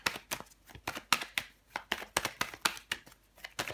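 Tarot cards slapped and laid down one on another in a quick series of crisp, close taps and flicks at an irregular rhythm, alone with no talking.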